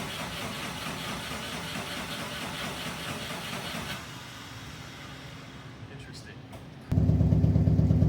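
A worn Subaru WRX engine with stock exhaust runs steadily, a rough mid-pitched drone that quiets partway through and then jumps louder and closer at the end, with speech at times underneath.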